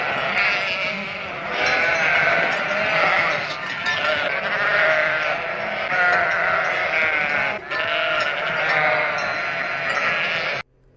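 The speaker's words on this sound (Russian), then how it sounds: "Баран. Еще баран с рогами есть." A ram from a children's animal encyclopedia bleats loudly and almost without pause for about ten seconds, a wavering, nasal cry with only a brief dip near the end.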